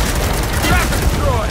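Gunfire and explosions from the Gears of War 4 video game come as a rapid, loud burst of shots with booming impacts, packed into a short chaotic stretch of combat.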